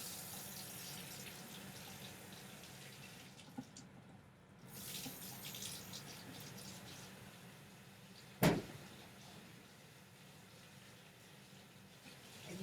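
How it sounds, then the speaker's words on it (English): Tap water runs steadily into a sink as hands are rinsed, a soft continuous splash with a brief pause and a sharp clunk near the end. "So I rinsed my hands"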